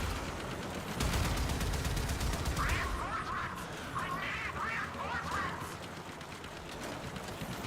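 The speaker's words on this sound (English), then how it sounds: "Multiple bogeys, man the guns." Manned guns fire in a video game in several bursts of rapid shots over a noisy battle background, with some talk mixed in.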